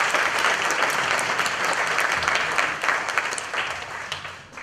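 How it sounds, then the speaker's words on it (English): An audience at a museum panel discussion applauds the exhibition sponsors, a full steady round of many hands clapping that holds level and then tapers off toward the end. "So a round of applause for them too."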